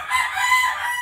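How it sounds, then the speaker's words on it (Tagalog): Chickens and a rooster close by, crowing and clucking loudly in a continuous, overlapping burst with no talk, in a garden among bougainvillea plants. "Pasensya na sa manok. Maingay sila."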